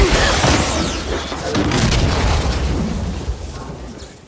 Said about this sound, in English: Incoming flash grenade!